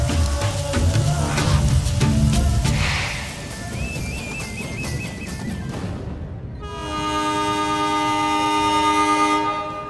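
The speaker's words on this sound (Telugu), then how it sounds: "అయ్యో ట్రైన్ కదిలిపోతుంది." A train rumbles and clatters along, a long horn blast rings out, then a sustained, loud tonal horn or whistle holds steady to the end.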